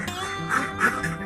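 Laying ducks kept for egg production quack in a rapid, overlapping burst of nasal calls, close and fairly loud against a faint background hum.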